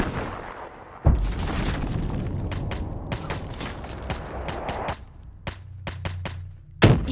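Grenade blast and gunfire in Call of Duty: Black Ops III, a loud boom opening a dense rattle of rapid close shots and bursts, with another sharp blast near the end.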